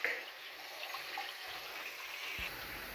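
Hot water pours steadily from a tap to warm sauce packets while cooking orange chicken, giving a continuous hissing, splashing rush at close range with no talk.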